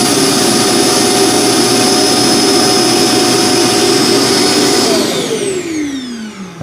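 An iRobot Roomba self-emptying base sucks debris out of the robot vacuum with a loud, close, steady roaring whine, then spins down with falling pitch near the end.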